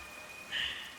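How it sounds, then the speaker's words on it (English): Rain falling in the Fallout: New Vegas video game, a soft steady patter that swells briefly louder midway through the second, with no talking. "Oh, it's raining."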